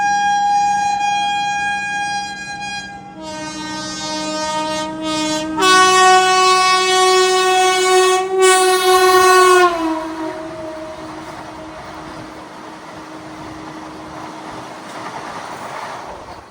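A loud, close train horn blares in long sustained tones, shifting pitch as a Vandana Bharat express passes, then fades into rumbling wheels.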